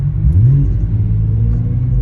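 Matt's loud car idling with its exhaust valves closed, a steady low rumble that holds close and strong throughout, with a brief swell early on.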